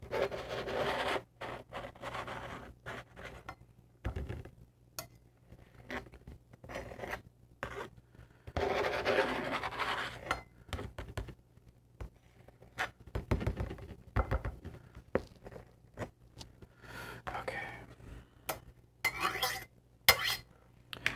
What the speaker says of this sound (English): Okay, so we got our garlic minced up.